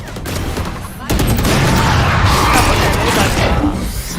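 Dense gunfire in Valorant fills the mix, a brief quieter stretch giving way to sustained loud bursts of shots, with a player's voice talking over it.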